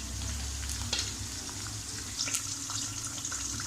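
Onions fry in a pan until golden, a steady sizzle with occasional stirring clicks and scrapes, close and continuous with no voices.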